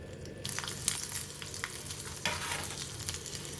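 Green chillies crackle and sizzle as they fry in hot oil for a Telugu cauliflower and raw mango chutney, a steady close frying hiss with scattered pops and a stronger burst near the end, no voices.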